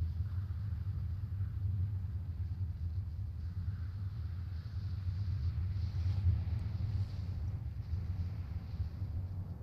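A storm in the video game Outer Wilds gives a steady, loud, low rumbling roar of wind that keeps going without a break, with no voices over it.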